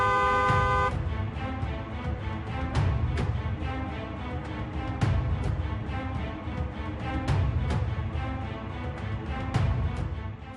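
Car horns honk repeatedly in busy traffic, a long blast followed by a series of short loud toots over a constant rumbling engine and road noise.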